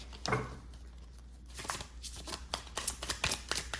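Tarot cards being shuffled repeatedly, crisp riffling bursts up close with a steady flutter, a couple of separate shuffles in quick succession.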